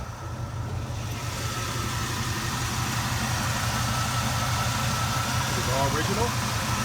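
An all-original 1981 Pontiac Special Edition Turbo Trans Am 4.9 idling, a steady low rumbling engine hum that holds evenly throughout while someone talks over it.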